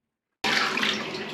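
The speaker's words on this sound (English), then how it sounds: "I'm going to give it a flush and it's flushing away just as expected." A toilet flushing in a community centre cubicle starts abruptly after silence with a loud, close, steady rush of water that continues to the end.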